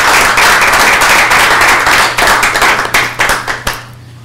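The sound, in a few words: applause for Iván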